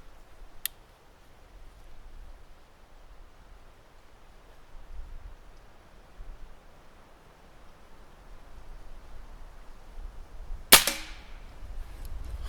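A Black Bunker BM8 survival air rifle fires outdoors in a light breeze, one sharp crack late in the stretch with a faint earlier click, otherwise quiet ambient background.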